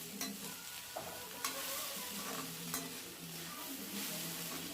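Okra stir-fried on high flame in a pan, a constant low sizzle broken by sharp scrapes and clacks of a spatula tossing the pieces, with no voices.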